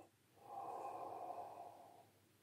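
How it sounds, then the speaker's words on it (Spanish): A single slow, airy breath drawn in through the mouth during a clarinet lesson, swelling and then fading over about two seconds in a quiet room. "Voy a respirar por la boca."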